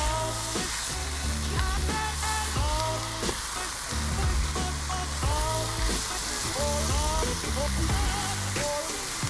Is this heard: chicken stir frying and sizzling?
yes